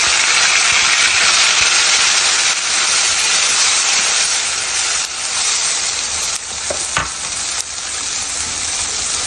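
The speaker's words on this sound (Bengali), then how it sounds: "তেলটা স্মোকি উঠলে পেঁয়াজ রসুন দিলে তখন পেঁয়াজটা কুচলি ভাজা ভাজা হয়ে যাবে" Onion and garlic frying in smoking-hot oil give a loud, steady broadband sizzle that fills the whole clip, with a few brief spatters and stirring knocks and no talking.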